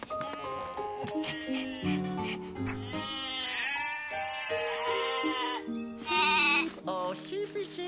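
Sheep bleat in a string of wavering, tonal cries over soft background music, the calls moderately loud and overlapping near the end.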